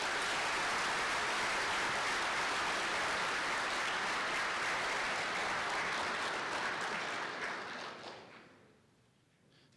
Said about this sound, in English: Let's give a round of applause for these two individuals.